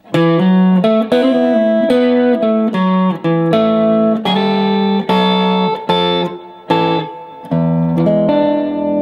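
A guitar slowly plays a major blues lick that opens with a hammer-on, each note ringing out clearly and loudly in a steady, deliberate sequence, no voices.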